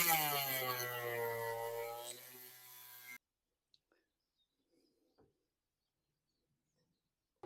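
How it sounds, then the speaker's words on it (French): A small burr on a rotary tool grinds a part of a 1986 Honda CR250R Showa shock absorber, producing a loud rising and falling whine for about three seconds. It then cuts off to near silence with a few faint clicks. "Je pense que je vais meuler par ici. Je vais commencer avec la plus petite fraise possible."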